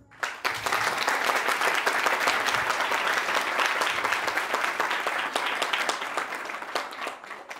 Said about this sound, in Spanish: Merecido los aplausos